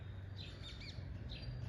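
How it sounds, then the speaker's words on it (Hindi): Small birds chirp outdoors on a rainy day, giving several brief, fairly faint tweets over a low, steady background hum. "पक्षी की चहचहाने की आवाज़ बहुत अच्छी आ रही है, आप सुन सकते हो।"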